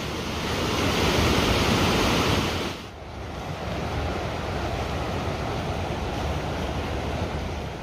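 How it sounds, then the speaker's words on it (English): Waterfalls rushing in misty mountains along the Kungsleden trail, a broad, steady roar of falling water, loud and unbroken, dipping briefly before settling back to a constant hiss. "There's so many amazing waterfalls."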